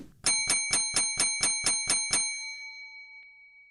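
A bright bicycle-style bell dings nine times in quick, even succession as a subscribe-reminder sound effect, then rings out briefly into silence.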